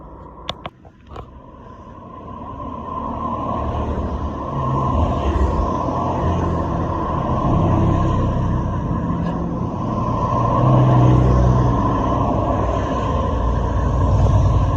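Porsche sports cars, including a 991 GT3 RS, pass the first bend of an Alpine mountain road, their engines a steady low rumble that swells and lingers for several seconds, with a few sharp clicks near the start.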